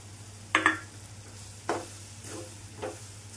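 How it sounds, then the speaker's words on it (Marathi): Roasted semolina is stirred into a sizzling tempering for upma, with a few scraping stirs standing out over a steady, quiet sizzle from the pan. "आणि भाजून घेतलेलं इथं आपण आता रवा घालून घेणार आहे।"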